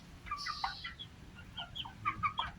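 Young chickens cluck and chirp softly in a quiet outdoor spot, with a string of short, scattered calls at moderate distance and no voices.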